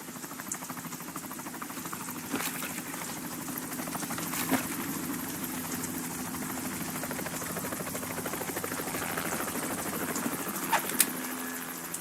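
A steady video game helicopter rotor thrums continuously at moderate distance, an even chopping drone with faint clicks, no speech; from Metal Gear Solid 2 on PS2.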